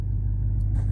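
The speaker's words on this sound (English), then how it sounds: "supercharged Hellcat motor." A 6.2-liter supercharged Hellcat V8 in a Ram 1500 TRX pickup idles with a steady, deep, close rumble, the tone lifting slightly near the end.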